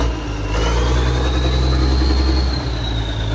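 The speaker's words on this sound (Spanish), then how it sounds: "¿qué les parece si le damos unos acelerones?" A classic Kenworth W925 or International truck engine runs loud and close, a deep rumble held under a revving throttle that swells and then settles for a few seconds.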